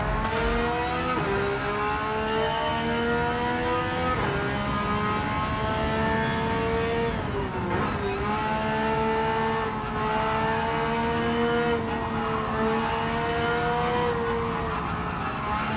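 A Porsche 911 GT3 racing in Gran Turismo 7: a loud, sustained engine note rising and falling through gear changes, with tire squeal woven in, close and continuous.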